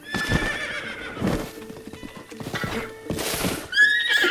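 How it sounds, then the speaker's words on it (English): A horse in the video game Zelda: Breath of the Wild gives several loud, close whinnies, with clip-clopping hooves and game sounds between them. "I just want to show you guys the horse"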